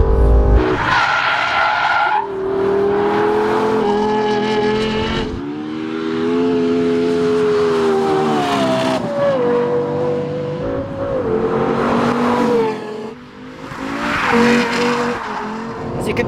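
A Lexus LFA sports car is driven hard around a race track, its engine note rising and falling through gear changes as the tyres squeal and skid through corners, loud and continuous throughout with no talking.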